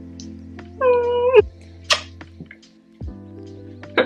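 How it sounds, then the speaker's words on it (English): A cat meows a few times, one drawn-out wavering call followed by shorter chirpy meows, close by in a quiet room. "That's my cat."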